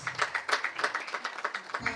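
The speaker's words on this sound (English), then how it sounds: "A round of applause to our panelists." Applause for the panelists at an International Women's Day celebration: a steady run of quick, fairly close hand claps from an audience, with some voice mixed in.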